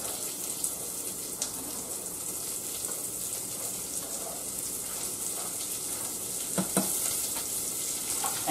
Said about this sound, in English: So we'll add in the chopped onion for right now and get that translucent.